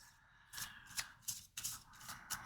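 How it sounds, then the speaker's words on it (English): Cards are shuffled in several quick, crisp bursts, each a short riffling rustle, close and fairly quiet. "I'm shuffling the questions"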